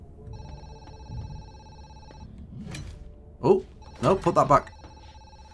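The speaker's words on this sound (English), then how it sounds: "The phone's ringing." An old-style telephone bell rings in the video game Zoochosis, a steady electronic ring running through most of the moment while a player talks over it.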